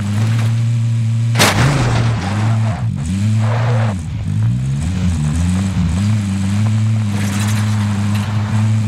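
Video game gunfire from a gun in the Plunder battle royale mode, one sharp loud shot followed by scattered lighter shots over a droning engine-like hum with wavering tones.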